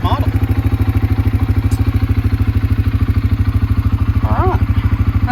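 A 2022 CFMoto CForce400 ATV engine idles at 1600 RPM, a steady, close, rhythmic low thumping that holds even throughout, with a brief faint chirp near the end.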